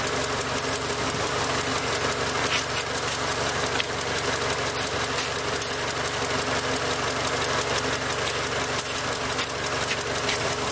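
Car engine idling on its alternator with the battery disconnected, a steady rapid ticking mechanical rhythm over a continuous hum, close and unchanging throughout.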